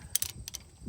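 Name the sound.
socket wrench loosening a driveshaft bolt on a Chevy truck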